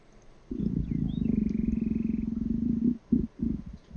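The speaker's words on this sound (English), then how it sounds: "So you're like growling" A close, deep growl rumbles steadily for a few seconds, then breaks into a couple of shorter snarling bursts.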